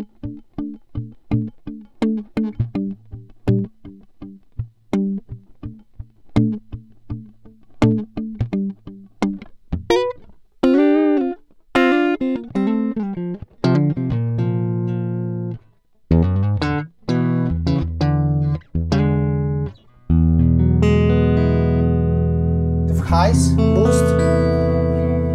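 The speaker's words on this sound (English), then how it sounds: "we will just pass this guitar through our BAE" Electric guitar played through a BAE 1073 preamp into an Antelope audio interface, plucked notes and strummed chords with a bright, driven tone building to sustained distorted chords, close and loud.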